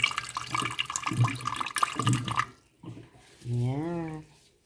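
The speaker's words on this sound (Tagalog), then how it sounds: "Lagyan natin ng konting tubig." A little water poured into a cooking pot of paksiw holding fish, vinegar, ginger and chili; a steady splashing pour for about two and a half seconds, then a brief voice.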